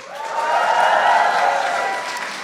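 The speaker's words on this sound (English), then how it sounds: "Can everybody please give Aisha a big round of applause?" A roomful of guests at a White House Eid reception breaks into applause and cheers for Aisha, swelling quickly, holding briefly, then tapering off.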